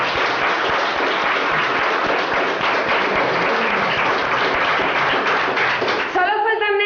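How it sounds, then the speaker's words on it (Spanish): A village audience at a chestnut festival in Belmonte de Miranda breaks into sustained, dense applause that fills the scene at steady loudness before fading under a voice at the very end. "Entonces ahora este aplauso lleva a vosotros"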